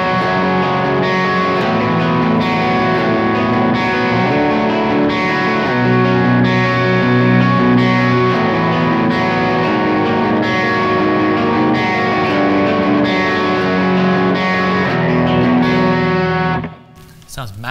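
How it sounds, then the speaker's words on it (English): Electric guitar with distortion and effects strums a Stairway to Heaven chord progression voiced with added ninths, sustained rich chords changing steadily and loud, ending abruptly. "If I play that same progression with nines in it or seconds in it, it sounds like this now."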